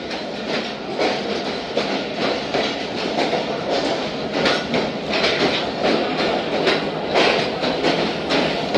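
Zakariya Express train running along the track, with a loud, close, steady rhythmic clickety-clack of wheels over rail joints beneath a broad rushing rumble and no talking.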